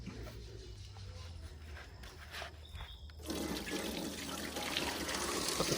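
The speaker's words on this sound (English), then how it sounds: "So that's where the watering can comes in handy again." Water from a watering can pours into a gold highbanker, a splashing, rushing flow that grows louder and fuller partway through, heard close and without talk.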